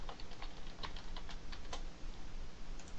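Keys on a computer keyboard are tapped in a quick, irregular run of soft clicks while a password is entered, close and quiet with no voice.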